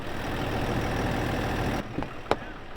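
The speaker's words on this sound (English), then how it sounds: "Listen to that Duramax." A Chevy Silverado HD ZR2 Bison's Duramax diesel engine idles in a steady low rumble for most of the stretch, then drops away, leaving faint scattered knocks and one sharp click.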